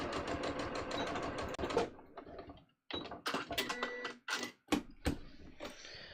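A sewing machine stitches corduroy pants in short rapid bursts separated by brief pauses, close and fairly quiet.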